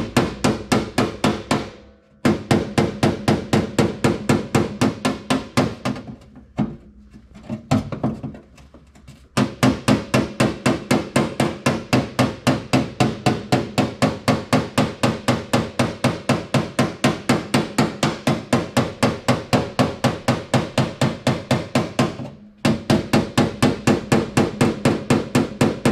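Rapid, steady light hammer blows ringing on a car body panel backed by a dolly, a long run of close, even taps with a couple of brief pauses.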